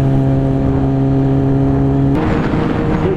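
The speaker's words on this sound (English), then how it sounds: "Gotta love that rush hour traffic." Road traffic at rush hour, a steady motor drone with tonal engine hum giving way to a broader rush as a car passes close by, loud and continuous with no talk.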